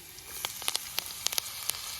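Finely chopped green chillies sizzle in hot ghee for a dal tadka, a steady frying hiss broken by sharp, crackling pops at irregular intervals, close and fairly loud with no one talking.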